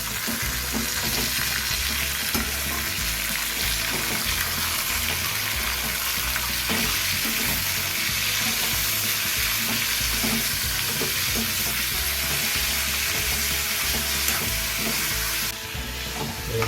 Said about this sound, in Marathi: त्यामध्ये कांदा आणि टोमॅटो टाकून घ्यायचा व्यवस्थित परतून घेऊया